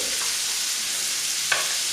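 Scallops fry in foaming butter in a pan over low heat, giving a steady hissing sizzle up close, with a faint clink of a utensil near the end.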